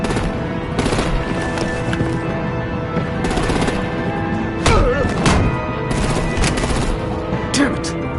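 Gunfire and artillery crash through a battle in Telltale's Batman game, loud sustained volleys with repeated heavy bursts and thuds, while voices speak over the din.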